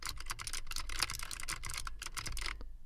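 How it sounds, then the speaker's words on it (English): Steady, rapid clatter of computer keys being typed, close and continuous with no voices, a dense run of light clicks. "So listening to the keyboard alone, it sounds like this."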